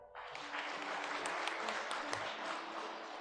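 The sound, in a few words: congregation applauding in church service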